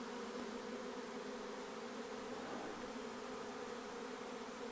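A swarm of honey bees that has just flown out of a populous hive, buzzing as a steady, dense drone that holds evenly throughout, close and continuous with no pauses.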